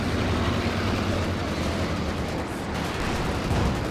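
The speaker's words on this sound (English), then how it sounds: "Light artillery barrage coming in once more." A light artillery barrage in a Company of Heroes 2 two-versus-two match sounds as a dense, unbroken rumble of explosions and gunfire, loud and steady throughout, with faint commentary blended under the noise.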